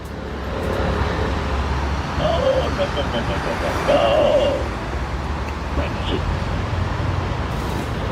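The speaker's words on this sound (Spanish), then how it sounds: "aquí vamos a escuchar al desbloquearse" An XPENG G6 electric car sounds its unlocking chime: a short sequence of tonal beeps, one brief tone followed by a longer rising melodic chirp, played fairly quietly over steady outdoor background noise.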